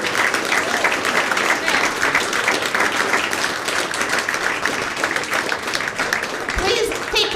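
A comedy club crowd applauds and claps between acts, a dense, sustained roar of hands that carries on steadily, with a voice briefly speaking over it near the end.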